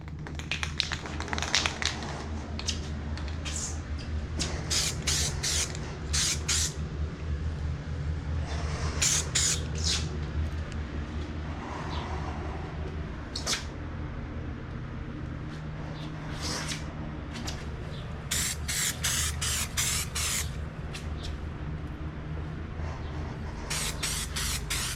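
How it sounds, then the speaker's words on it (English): Car primer sprayed with an LVLP spray gun, short hissing bursts repeated in irregular on-off passes over a steady low compressor hum. "we're going to let this dry for a minute before we throw on the actual primer through the LVLP gun"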